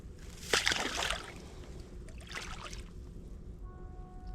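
A caught largemouth bass is let go back into lake water, giving a brief close splash and slosh near the start, then a softer second burst of water movement.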